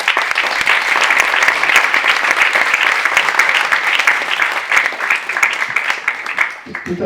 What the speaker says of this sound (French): applaudissez-vous, applaudissons-nous.